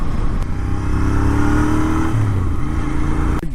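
A Royal Enfield Interceptor 650 twin revs up, its engine note climbing steadily and then dropping back, loud and close with a faint clatter and no talking.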